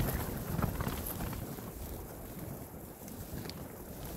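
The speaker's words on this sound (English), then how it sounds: "You can hear the wind gusts as well too." Gusty wind buffets the microphone outdoors beside the South Branch of the Harris River during a storm, a steady broadband roar that swells and eases without any voices.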